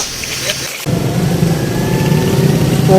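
A motorcycle engine runs close by, a steady idling drone that starts abruptly after a brief quieter moment and continues at a constant level, in a town after heavy rain.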